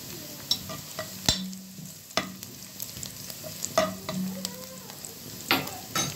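Onion frying in a pan and starting to brown crackles in a light, close sizzle, broken by repeated sharp clinks and scrapes of a utensil stirring at irregular intervals, with no talk.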